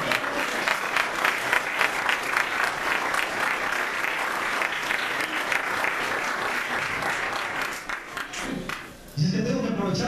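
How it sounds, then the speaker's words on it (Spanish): A church congregation applauds the Lord with sustained, dense clapping that fills most of the moment at a steady level, then fades as a voice begins speaking. "Damos un aplauso al Señor."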